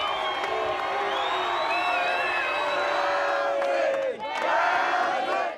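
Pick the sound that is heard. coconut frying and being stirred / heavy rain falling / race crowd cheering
race crowd cheering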